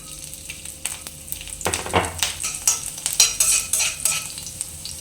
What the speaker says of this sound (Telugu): ఇప్పుడు ఇందులోకి ముందుగానే కట్ చేసి పెట్టుకున్న వెల్లుల్లి వేసుకుందాం